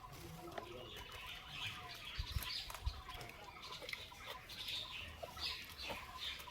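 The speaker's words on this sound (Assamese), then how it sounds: "এইফালে হাঁহ কান্দি আছে" Ducks call faintly in an outdoor village setting while foraging for food, with soft, scattered quacks and clucking-like bird noises over low background rustle.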